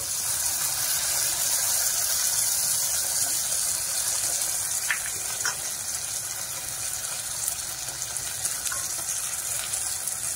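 Water poured into a pan to rinse out ground mustard paste while cooking koi fish, heard as a continuous rushing, sizzling wash that holds steady for the whole stretch, close and fairly loud.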